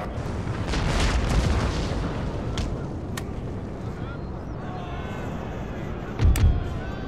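Artillery fire in Napoleon: Total War, a rumbling battlefield bed with a few sharp distant cracks and one heavier boom near the end, mixed under game ambience.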